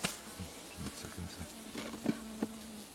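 Honeybees buzzing at an opened beehive during a Varroa mite treatment check, a close, steady hum with sharper rising whines of individual bees passing near, plus a few soft taps and knocks.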